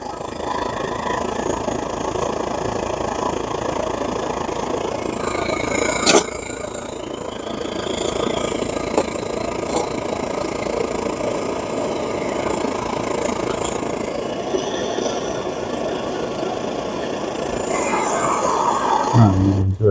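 Svea 123 camping stove burning after ignition, a steady broadband roar that holds evenly throughout, with a few faint clicks and knocks over it.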